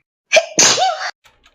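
A single loud, close sneeze with a sharp intake and explosive burst, followed by brief silence and a couple of faint sounds.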